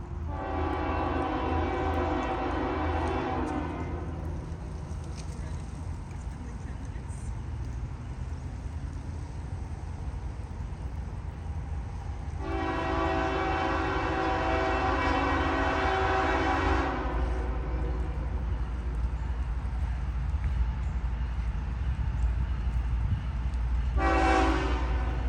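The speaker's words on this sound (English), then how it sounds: "Barely a minute had passed by, and already another train was itching to make an appearance." A freight train rolls through Folkston with a continuous low rumble, its horn sounding in long loud blasts at the start, again in the middle, and a short final blast near the end.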